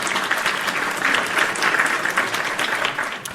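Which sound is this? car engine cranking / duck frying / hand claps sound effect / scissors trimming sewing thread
hand claps sound effect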